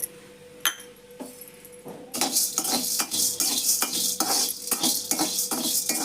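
Dry-roasted garam masala spices are scraped and lifted from a metal pan at home, giving a rapid series of loud clinks and scrapes from a spoon against the pan, close and busy, with no talk.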